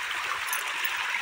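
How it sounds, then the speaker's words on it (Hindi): Canal water runs by a farm field with a soft, continuous rushing hiss, steady and fairly quiet, and no one speaks over it. "नहर का पानी।"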